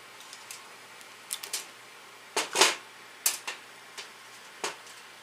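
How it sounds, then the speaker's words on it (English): Several sharp snips of a motorized bicycle throttle or clutch cable's conduit being cut, a few isolated clicks followed by a cluster of louder crunching cuts, close up and with no talking. "I'm going to cut my conduit right here"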